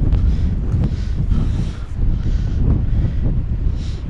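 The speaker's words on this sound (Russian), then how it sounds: "ветер очень усилился, прибавил" Strong wind buffets the microphone in heavy, rumbling gusts that roar without pause for the whole few seconds.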